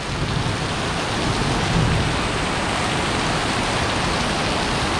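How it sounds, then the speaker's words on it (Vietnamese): Steady heavy rain pours down during a thunderstorm in Binh Duong, Vietnam, a dense continuous hiss with a low rumble underneath, close and loud throughout with no voices. "cơn mưa sẽ còn tiếp diễn chắc khoảng 10 đến 15 phút nữa thôi"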